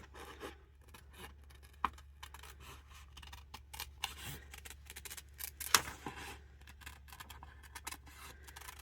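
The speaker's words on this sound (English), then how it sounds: "I just kind of rock the paper around and let the scissors do their thing." Quiet, irregular snipping and rasping of scissors working through paper, with soft scrapes and one sharper click, close by and steady throughout.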